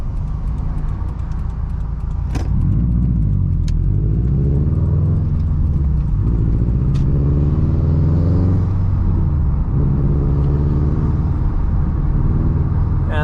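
A 2011 Subaru WRX hatchback with coilover suspension drives on a road near Redondo Beach, its engine droning from inside the car and rising in pitch through the gears with shifts between.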